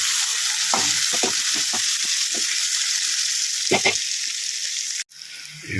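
Boiled eggs being stirred into a frying egg-carrot curry, steady loud sizzling punctuated by several spoon scrapes and taps, then a brief cut before the sizzle resumes.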